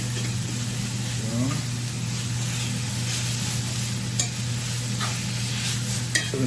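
Beef for Philly cheesesteak sizzles steadily in a hot pan, close and continuous, with occasional light scraping of stirring.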